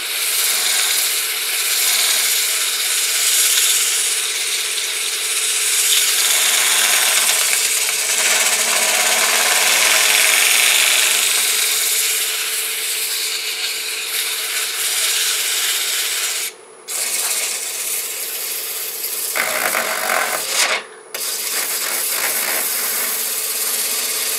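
Loud continuous scraping hiss of sandpaper against a wooden bowl spinning on a lathe over a steady motor hum, close, with two brief dropouts near the end.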